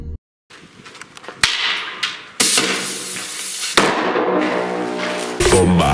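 Sodium metal fixed above a watermelon reacts and bursts in a series of loud sharp bangs and cracks, the strongest blasts near the middle and end, with crackling and spattering between them and no talk.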